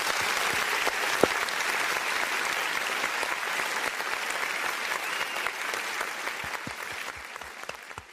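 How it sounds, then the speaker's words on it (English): Sustained audience applause for guest Glenn Ritter on an NFL sports talk show, dense steady clapping that holds at an even level for the whole stretch and tapers slightly at the end. "let's give him the proper applause"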